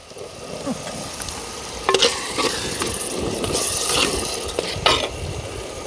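Green chillies sizzling in hot oil at a night campsite while paneer handi curry is cooked, a steady frying hiss with scattered crackles and the clink of stirring against the pot.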